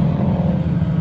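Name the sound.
cheap race car engine revving at 24 Hours of Lemons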